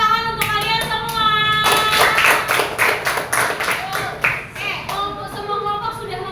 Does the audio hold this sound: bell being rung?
no